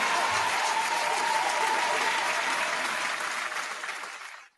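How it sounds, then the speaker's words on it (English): An audience gives a steady burst of applause, loud and even throughout, then fading out at the end. "Round of applause."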